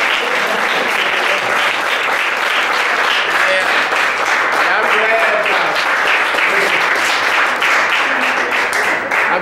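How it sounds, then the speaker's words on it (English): A dense, sustained round of applause fills a hall as an audience claps together for several seconds, loud and continuous with a few cheers and voices mixed in. "Let's put our hands together in a resounding round of applause"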